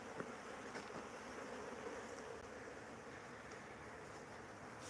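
Honey bees hum in a continuous faint drone around beehives, a steady outdoor buzz with no voices.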